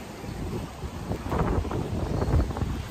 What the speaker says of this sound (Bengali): বিশাল জোরে হাওয়া দিচ্ছে